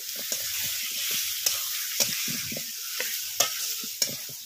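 Meat and potatoes frying in hot oil with turmeric in a pan, a steady bright sizzle with several sharp clinks and scrapes of a spoon stirring, close and loud with no talking.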